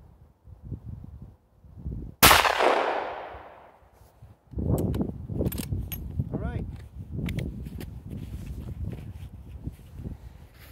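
A single sharp, loud 350 Legend rifle shot cracks out at a shattered glass target in snowy outdoors, followed by clattering and handling sounds while someone talks.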